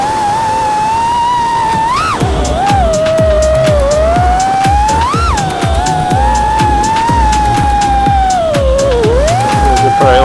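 FPV racing drones, an iFlight Nazgul Evoque and a Mach R5, whine loudly around a track, their high motor tone swooping and surging with throttle, over a steady rhythmic thumping beat in the background.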